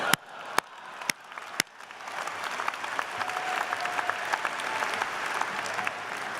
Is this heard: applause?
yes